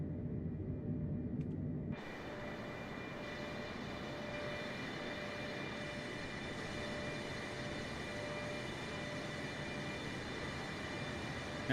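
Boeing 747 engines in Microsoft Flight Simulator 2020, wearing an old Swiss Air livery and climbing toward a 20,000-foot cruise, give a steady, dense droning roar that swells in after a brief quieter opening and holds evenly throughout.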